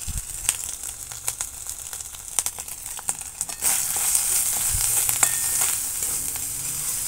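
Ginger, turmeric and chilli powder frying in oil for a vegetarian pointed gourd and potato curry: close, crackling sizzle with spoon clicks that swells into a steadier, louder hiss partway through, with no voices.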